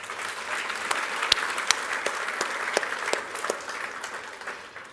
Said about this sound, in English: give a little bit of round of applause for the mine managers